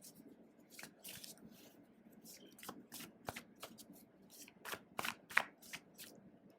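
A deck of tarot cards is shuffled by hand in a quiet room, a run of crisp, close riffling bursts and soft slaps coming in an uneven rhythm, with faint low talking underneath.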